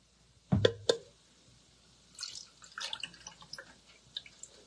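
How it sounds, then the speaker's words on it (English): A thick liquid homemade skincare mixture is poured from a bowl into a cup, giving a couple of close wet glugs followed by softer, sporadic drips and splatters in a quiet room. "So I'm going to go ahead and just pour this into this cup."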